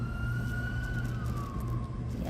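An emergency vehicle siren wails steadily in the distance, its tone slowly falling as it passes, over a low constant hum from a parked car.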